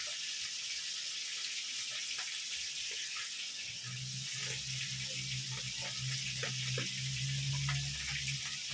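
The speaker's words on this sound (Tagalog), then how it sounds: "Ito yung gagamitan ng tap." Water runs steadily from a kitchen tap with a soft, continuous hiss that deepens into a fuller gushing stream partway through, nearby with no talking.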